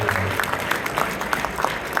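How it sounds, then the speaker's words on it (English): An audience at a community coalition brunch claps for the event's sponsors, a dense, even patter of many hands close by with a few sharper claps poking through, lasting the whole short stretch. "So please give a round of applause for our sponsors"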